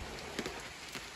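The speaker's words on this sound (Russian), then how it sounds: "Но это, дождик пошел." Light rain beginning to fall outdoors at a summer cottage garden, a soft steady patter with a few slightly louder drops, faint and continuous with no talking.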